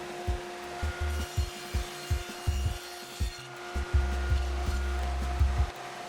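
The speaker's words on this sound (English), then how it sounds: "Here I'm ripping a long angle cut on the top of my center divider." Table saw ripping a long angled cut along a wooden cabinet divider, with a steady motor hum under repeated short bursts of blade bite as the board feeds through, close and fairly loud.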